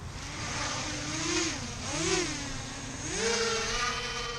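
Drone motors whine up and down in pitch, a close, rising and falling electric buzz that swells in a few waves.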